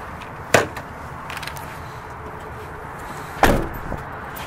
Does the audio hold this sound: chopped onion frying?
no